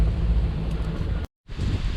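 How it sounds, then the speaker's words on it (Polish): Strong wind buffets the microphone in a continuous low roar, broken by a brief moment of near silence before the gusting resumes. "Okropny wiatr jest"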